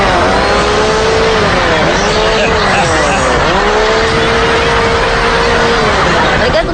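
A car swerves into a sharp U-turn on a street, engine droning loudly and steadily with gliding pitch sweeps as it slows and turns, tires hissing throughout in a continuous, close, dense wash of noise.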